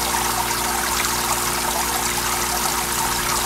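Water trickles and streams steadily inside a Hoshizaki commercial ice maker, a constant close splashing flow over a low mechanical hum, with no voices.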